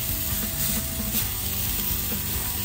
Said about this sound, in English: And here goes the sizzle.